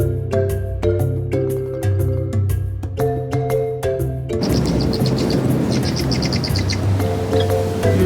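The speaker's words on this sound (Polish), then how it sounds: "Już tu jakieś pierwsze ptaszki." Birds chirp and tweet repeatedly against a rich outdoor background in Nairobi National Park, Kenya, with a melodic call early on giving way to quick, high chirps.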